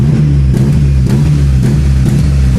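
A tuned street car holds steady at a two-step launch-control limiter with boost building, the engine buzzing loud and close in a rapid stuttering pulse of rev-limit cuts, with no one talking.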